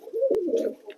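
A pigeon gives a single low, throaty coo that rises and falls while being handled, close by and clear against a quiet background.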